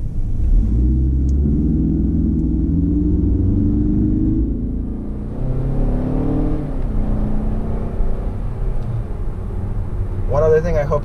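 A 2018 Mazda 6 cabin while driving on a road at night, with a steady low road and engine rumble filling the interior and a voice speaking over it, then a brief higher whine near the end.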